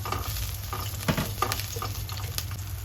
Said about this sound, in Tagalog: Painitin muna yung mantika. At tapos, gisa na natin yung ating bawang.